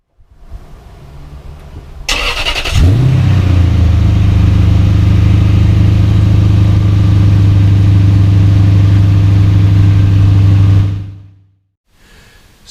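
A Lexus GS430 V8 with worn valve stem seals cranks and fires on a cold start, rising into a loud, steady high idle that holds for several seconds before abruptly cutting off, no voices present.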